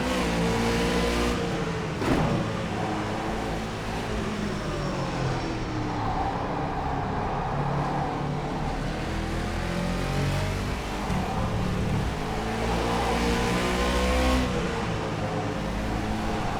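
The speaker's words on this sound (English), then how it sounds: "you can really feel the car going under load, bouncing up and down as you break into this corner" A race car in rFactor 2 driven hard under load into a corner, engine note steady and loud throughout with pitch dipping and rising as it brakes and accelerates, no talk over it.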